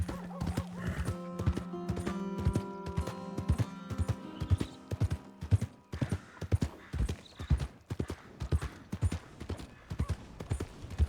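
Steady clip-clop of horse hooves in Red Dead Redemption 2, close and rhythmic, with a brief whinny early on and a low background hum.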